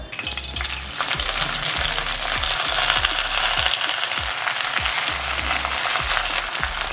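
Gongura sorrel leaves and red chillies sizzle loudly and continuously in a pan, with a steady run of quick scraping stirs cutting through the frying.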